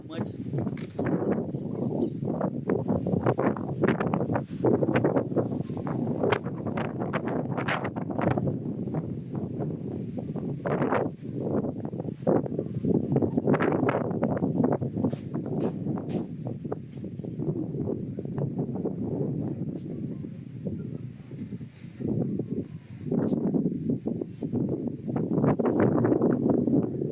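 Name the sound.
strong wind blowing over the microphone outdoors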